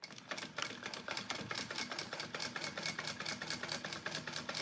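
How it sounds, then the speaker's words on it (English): Sewing machine top stitching the bottom panel of a Poppie Purse, a steady close run of rapid needle strokes with a slight rhythmic pulse, continuous throughout without talk. "I'm just top stitching this other bottom part of my bag"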